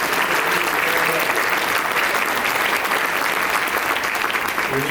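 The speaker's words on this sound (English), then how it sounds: "people give you a round of applause" A large crowd applauds steadily, a dense, even wash of clapping that holds at full strength throughout without pause.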